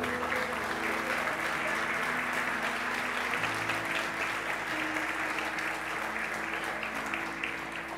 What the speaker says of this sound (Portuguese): aplaude e glorifique o nome do Senhor